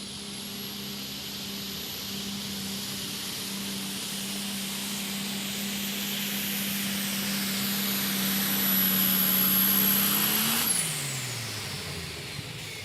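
A pulling tractor at the Ogle County Fair tractor pull in Oregon, Illinois, its turbocharged engine screaming with a high whine at steady full power, swelling louder before abruptly spooling down as the run ends.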